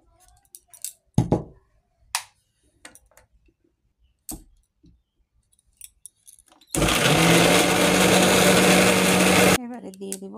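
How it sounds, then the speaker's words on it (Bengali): A kitchen blender whirs loudly for about three seconds while grinding spices and green chili paste, after scattered clicks and knocks of kitchen handling. "এবারে এটাকে ব্লেন্ড করে নিব।"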